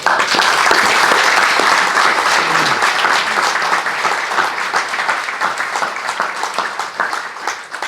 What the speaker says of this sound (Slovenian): In jaz vas prosim za en aplavz.